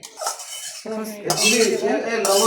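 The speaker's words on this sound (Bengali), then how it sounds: "সয়াবিনগুলো অ্যাড করা হচ্ছে সয়াবিনগুলো অ্যাড করে দেওয়া হচ্ছে" Soybeans tipped into a cooking pot of water, a clatter of metal utensil and pot clinks with stirring scrapes, close and fairly loud.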